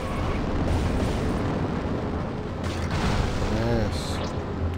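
Loud, dense rumbling blast in the Beach Buggy Racing 2 racing game, sustained roar of a game explosion mixed with engine noise and a brief rising tonal effect near the end.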